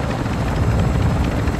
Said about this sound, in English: The helicopter's still here.